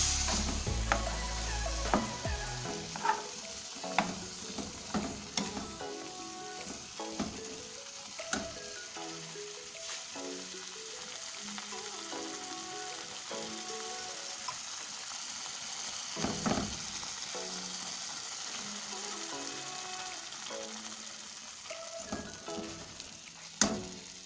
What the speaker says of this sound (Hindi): हमारा हलवे की सूजी भी भुन गई है, जिसे हम बीच बीच में चला रही थी मैं ताकि ये डार्क कलर ना हो जाए।